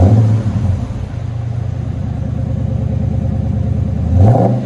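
A 2013 Chrysler 300C with a 5.7L HEMI V8 and Magnaflow Magnapack exhausts idles with a deep, steady, close rumble, then gives a short rev near the end.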